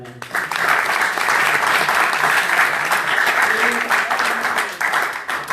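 Loud, dense audience applause at a speech competition event, a steady wash of clapping sustained throughout with slight swells and dips.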